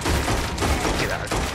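Gunfire in Red Dead Redemption 2 during a bank robbery: a rapid fusillade of close shots in quick irregular bursts over about a second and a half, with faint voices underneath.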